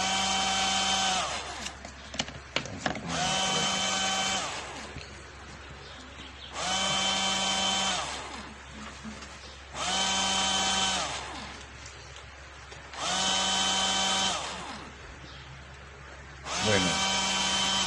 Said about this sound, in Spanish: tenemos el motor 2, que sería el motor del secador de cabello